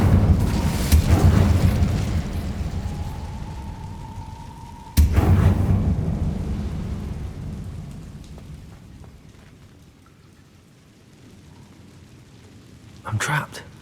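A fire spell cast in Hogwarts Legacy gives a loud whooshing, booming burst near the start and another sharp burst around five seconds, then roaring flame noise that fades, with a brief crackle near the end and a voice speaking over it.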